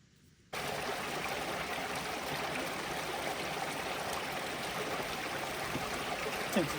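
Mountain stream near Stickle Tarn rushing steadily over rocks while water is collected, a close, continuous splashing flow that starts abruptly after a quiet half-second and stays even throughout.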